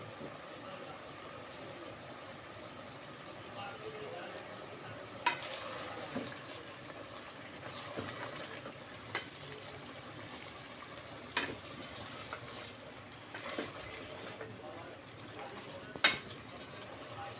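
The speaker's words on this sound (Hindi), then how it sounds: "5 मिनट हम इस मसाले को भूनेंगे।" Masala with Kashmiri red chili powder and salt fries in a pan with a little water for a beef pasinda, giving a soft continuous sizzle broken by occasional scrapes and taps of a spoon stirring.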